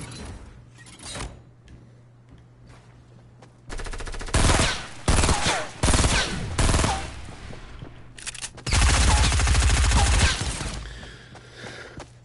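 Gunfire in the video game Fortnite erupts in several loud, dense bursts of rapid shots, separated by quieter stretches with faint clicks and thuds, the heaviest barrage coming near the end.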